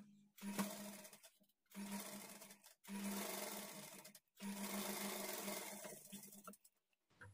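A sewing machine stitches blouse lining in four short, even bursts of close, humming whir, each separated by a brief silent pause, with no speech.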